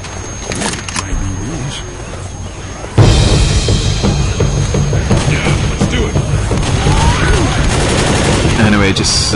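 Computer-controlled survivors firing guns in Left 4 Dead on easy difficulty, a dense loud clatter of overlapping shots that surges in partway through and keeps rattling on, with someone talking over it.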